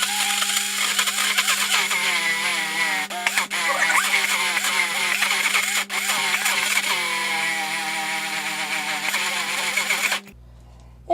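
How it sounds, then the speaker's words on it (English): A hand blender emulsifies a white chocolate truffle mixture, a loud continuous motor whir with wavering pitch as the submerged stick moves, then cutting off abruptly near the end. "with the emulsifier or with the hand blender and emulsifying it like that"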